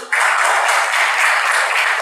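Audience applause in a classroom breaks out abruptly and holds steady as a dense, even wash of clapping for about two seconds, fairly close and loud with no voices over it.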